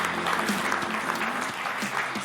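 Steady applause for a fencing club fills the room, dense and fairly close, with a few faint voices mixed in beneath the clapping.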